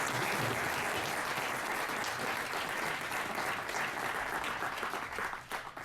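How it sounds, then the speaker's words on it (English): Steady, dense applause from a meetup audience for a presenter, sustained close-up through the whole stretch before tapering off at the end. "Let's give Marcelo an applause."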